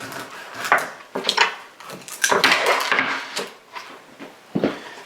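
A knife slicing a whole fish into steaks on a wooden board, giving a run of close, crisp cutting and crunching strokes with knocks against the board and irregular pauses between them.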